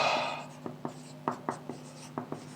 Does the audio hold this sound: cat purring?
no